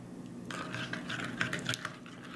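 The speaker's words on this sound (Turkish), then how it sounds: "Salça, baharat, yağ ve domates güzelce birbirine karışsın." A spoon stirring tomato sauce with pepper paste, spices, oil and lemon juice in a pan, scraping and clinking lightly and irregularly, close and fairly soft, with no talk.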